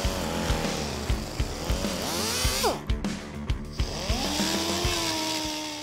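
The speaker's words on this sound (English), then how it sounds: "To further smooth out the finish, a cartridge roll comes next." A cartridge roll abrasive on a power tool smooths a Ford small block Windsor engine block with a loud, close whine and rhythmic pulses, its pitch dipping and rising as the load changes.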